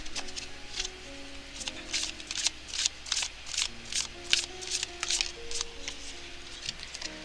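Romance Angels oracle cards being shuffled by hand close up, with rapid papery riffles and flicks in an uneven rhythm over a low background hum.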